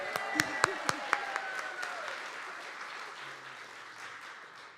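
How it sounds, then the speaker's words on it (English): Applause from a conference keynote audience, opening with several distinct loud claps over a wash of clapping that fades steadily toward the end, with a voice briefly present. "And another big round of applause to"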